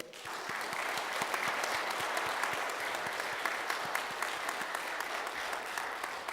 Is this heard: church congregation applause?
yes